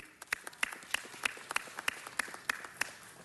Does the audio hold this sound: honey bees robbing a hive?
no